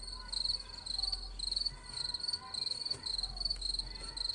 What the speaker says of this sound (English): I don't care if this video gets copyrighted because of this cricket sounds